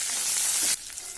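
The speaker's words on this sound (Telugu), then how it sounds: "ఇవి ఇలా చిట్లుతుంటే కట్ చేసుకున్న ఉల్లిపాయ ముక్కలు, కొద్దిగా కరివేపాకు వేసి బాగా మిక్స్ చేసుకోవాలి" Onions and curry leaves dropped into hot oil with spluttering cumin and mustard seeds for capsicum rice: a loud hiss that suddenly drops to a softer, crackling sizzle.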